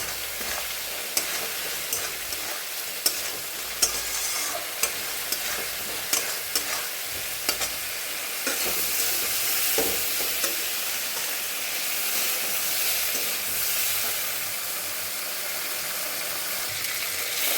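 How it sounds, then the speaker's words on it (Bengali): Taro pieces sauté in oil with nigella seeds, giving a continuous sizzle broken by repeated scraping and clicking stirring strokes, close and moderately loud, with no speech. "এখানে আমি কচুগুলো দিয়ে আর একটু কষিয়ে তারপর আমি জল দিয়ে দেবো"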